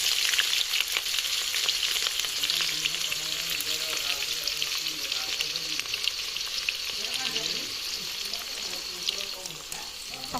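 Onions and green chillies fry in hot oil in a pan for an Assamese-style mutton curry, giving a steady, close hiss and crackle with occasional stirring scrapes and light talk underneath.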